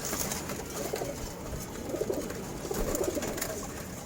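Racing pigeons in a loft in Wari, Dhaka, cooing in repeated low, soft bursts over a steady background hum, with no speech.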